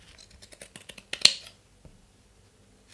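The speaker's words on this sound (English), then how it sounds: "trim the seam at the corners diagonally, then you can trim the sides" Scissors snip through the fabric seam allowance of a small sewn pocket pouch, trimming the corners diagonally: a quick run of close, crisp cuts ending in one louder snip, then near silence.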